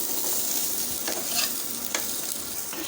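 Chicken pieces fry in a small amount of oil in a pan, giving a steady, close sizzle broken by a few scraping stirs of the spatula.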